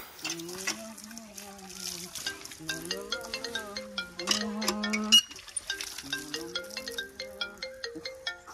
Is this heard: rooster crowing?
no